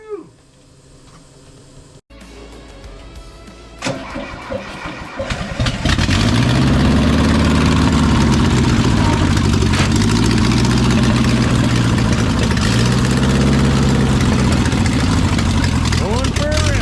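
A VW bus engine cranks, catches and settles into a loud, steady idle with a rhythmic mid-low throb, following a quieter stretch with faint background sound.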